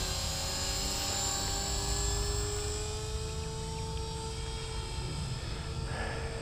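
A 450 Pro model radio-controlled helicopter flying in governor mode on its maiden flight, a steady loud whining rotor and motor drone with shifting tonal pitch lines, held continuously throughout.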